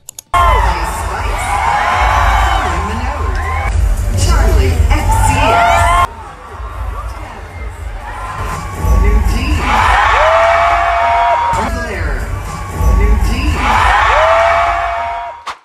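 Loud, shrill cheering and screaming from an arena crowd greeting the performers at the Billboard Women in Music event, coming in surging waves with high whoops and yells, briefly dipping before swelling again.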